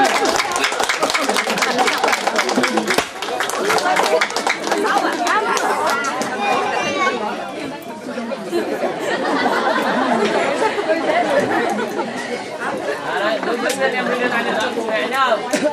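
Guests at a rural Vietnamese countryside wedding give the bride and groom sustained clapping and cheering, a dense crowd roar with chatter mixed through it, loud and continuous for the whole stretch with a brief dip midway.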